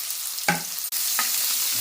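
Cumin seeds and onions sizzle steadily in hot oil as a tempering for a cabbage dal fry, with a few sharp clinks and scrapes of stirring cutting through the continuous hiss.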